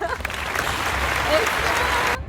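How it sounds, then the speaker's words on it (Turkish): A short burst of clapping greets a newly arriving guest, a dense rattle of applause that stops abruptly, with voices mixed in. "alkışlar"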